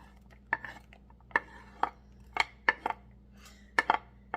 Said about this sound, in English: put our onion in there